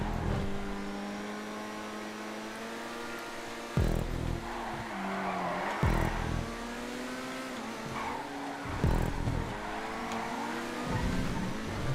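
Tempesta sports car engine in a GTA 5 video game race, a loud sustained high-revving drone that climbs and drops through repeated gear shifts, with sharp bursts near four, six and nine seconds and squealing tire noise mixed in.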